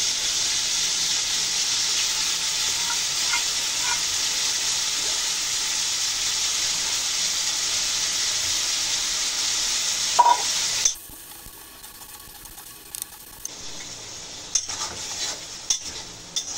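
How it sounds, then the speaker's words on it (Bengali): Minced beef fries in bubbling oil with ground cumin and coriander and is stirred over and over, giving a loud, steady sizzle and hiss. Around eleven seconds the sizzle drops away sharply, leaving quieter clinks and light tapping. "কিমা কিছুক্ষণ ধরে কষিয়ে নিয়েছি, তেল ফুটে গেছে"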